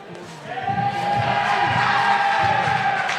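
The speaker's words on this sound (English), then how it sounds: "We have cheers from the crowd" Crowd cheering at a North Greenville vs Lees-McRae men's college basketball game, a swelling roar of voices that builds after a quieter start and holds loud and sustained, with a faint whistle-like tone running through it.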